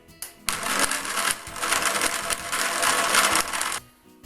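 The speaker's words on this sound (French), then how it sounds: "robot et vous le mettez d'abord au niveau 1, ensuite vous accélérez de plus en plus" Stand mixer whipping eggs and sugar for a chocolate sponge cake, a close whirring motor that starts abruptly, runs steadily loud for about three seconds and then stops.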